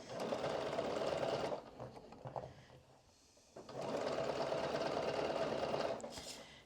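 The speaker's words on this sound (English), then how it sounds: "we're just gonna go slow because you're really sewing into a tube here" A sewing machine stitches a knit vest slowly in the round, two rapid buzzing runs of needle strokes separated by a quiet pause, close and steady.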